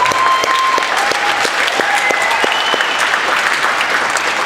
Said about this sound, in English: So a big round of applause for Wes